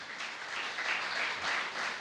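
A church congregation applauds during a sermon, giving steady, moderately loud clapping that surges and eases in short waves for about two seconds.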